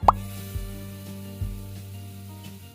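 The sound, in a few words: tomato paste added to hot oil with bay leaves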